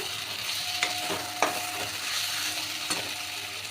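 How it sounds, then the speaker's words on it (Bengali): Prawns and pointed gourd sauté in a pan with a continuous sizzle, marked by several crisp spatula knocks and scrapes at irregular intervals. "চিংড়ি আর পটলটাও খুব ভালো করে কষে নেব"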